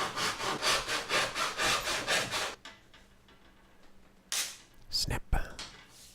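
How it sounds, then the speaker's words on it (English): A hand saw cuts through thick plywood in quick, rhythmic back-and-forth strokes for a couple of seconds, followed by a pause and several sharp cracks and knocks. "Plywood is tough stuff, and this is 16 inches of it that I'm cutting through"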